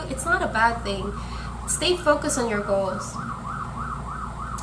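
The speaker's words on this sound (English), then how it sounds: "I'm sorry for the siren in the background." A wailing emergency vehicle siren cycles steadily in the background throughout, rising and falling in repeated sweeps beneath a person talking calmly in the foreground.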